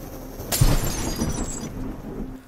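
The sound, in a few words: glass window shattering, broken with a stone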